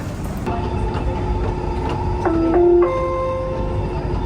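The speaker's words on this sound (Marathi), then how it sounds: "मेट्रोने जाऊया मीना बाजारला" Steady hum and rumble inside a moving Dubai Metro train, with a whining motor tone and a short chime partway through.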